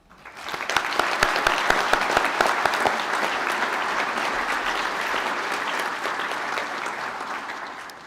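A hall full of guests at a GMIT graduation ceremony in the Galway International Hotel applauds standing graduates, dense clapping that swells quickly and holds steady, then tapers at the end.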